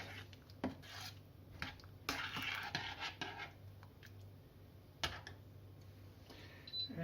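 A meat pasta sauce for linguine cacciatori is stirred gently in a pot, giving quiet rubbing, scraping strokes and light utensil knocks against the metal over a low steady hum.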